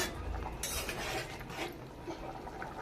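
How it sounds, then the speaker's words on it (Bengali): A spoon stirs an egg and potato curry in a cooking pot, making soft scraping and clinking sounds over a low bubbling simmer that carries on throughout. "আবারও ভালো করে নেড়ে নিচ্ছি"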